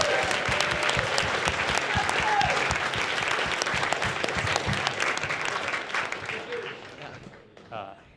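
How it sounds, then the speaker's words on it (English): Audience applause at a BronyCon 2013 fan convention, a dense burst of clapping from a crowd that fades out toward the end with a few voices and cheers mixed in. "So everybody, a round of applause for Dusty"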